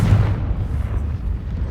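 A Confringo blasting spell detonates in Hogwarts Legacy, a video game: a loud, deep, rumbling explosion boom that fills the short moment without pause.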